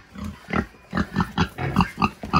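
A large pig grunts repeatedly in a pigsty, in a steady rhythm of loud, close snorting grunts heard alone.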